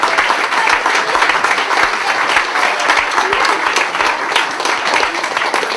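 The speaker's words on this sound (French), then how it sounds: "On peut tous les applaudir." Crowd applauding regional swimmers at a town sports festival in Auray, loud, dense clapping that holds steady for the whole stretch with no pauses.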